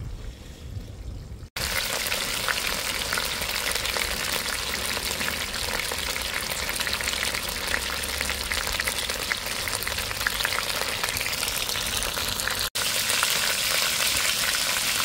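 Steady, loud sizzling of chicken frying in a pan, continuous throughout with brief cuts, no talking.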